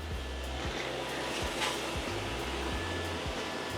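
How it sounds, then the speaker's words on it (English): A steady, loud motorized whine with a rough low-end rumble runs without pause, like a cordless vacuum cleaner operating close by. "I am going to vacuum everywhere. It's so loud."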